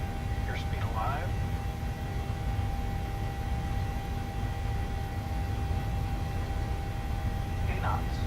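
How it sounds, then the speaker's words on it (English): Airplane engines spooling up for takeoff on runway 08 in a flight simulator game, producing a steady loud broadband roar throughout while a person talks briefly over it. "we're going to go ahead and spool up for takeoff"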